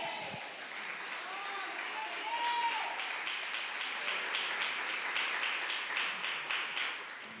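A church congregation applauds in a soft, continuous wash of clapping, distant and fairly faint, with voices and a sung or spoken tone mixed in at the start.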